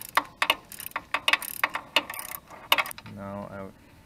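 A ratcheting socket wrench with an extension works a spark plug loose on a 2002 Suzuki GSX-R1000 motorcycle, giving quick bursts of sharp, close clicks, then a short buzzing whir at the end.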